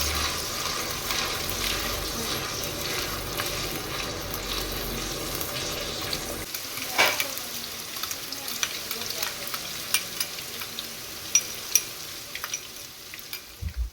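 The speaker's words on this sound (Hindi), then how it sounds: "एक कढ़ाई ली है, उसमें हाफ कप ऑयल ऐड किया है और प्याज जो हैं वो ग्राइंड किए हुए ऐड कर दिए।" Ground onions fry in half a cup of oil in a kadai with a steady, close broadband sizzle that drops quieter midway, followed by scattered soft clinks and scrapes of stirring.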